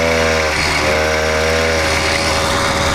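An 80cc motorized bicycle engine with a slipping clutch runs loud and close, a steady buzzing two-stroke drone whose pitch wavers briefly before settling, with no voices.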